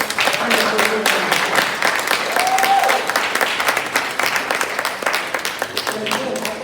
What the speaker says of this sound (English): But we want to applaud the parents.